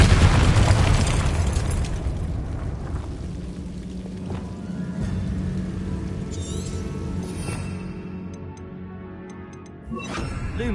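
A Confringo blasting curse goes off in Hogwarts Legacy: a loud, close boom at the start that trails into a long rumbling decay, with scattered smaller pops and crackles afterward and a fresh burst near the end.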